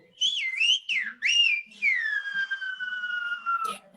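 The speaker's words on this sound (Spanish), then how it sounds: "lo voy a hacer sin dedo" A Silbo Gomero whistled-language phrase produced without a finger in the mouth: loud, close, piercing whistles with quick swooping glides, then a long steadily falling tone ending in a short sharp click.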